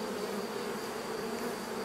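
A honeybee swarm that has left a beehive hums in a steady, faint, even drone, with no voices over it.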